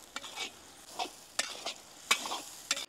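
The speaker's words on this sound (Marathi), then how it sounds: "आपण आता अद्रक लसूण पेस्ट व्यवस्थित 2 ते 3 मिनिटं परतून घेऊ" Ginger garlic paste sautéed in a pan, with a spatula stirring in a series of distinct scraping strokes over a soft, steady sizzle, close and fairly quiet with no talking.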